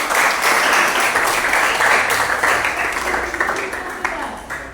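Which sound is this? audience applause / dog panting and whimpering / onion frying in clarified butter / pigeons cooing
audience applause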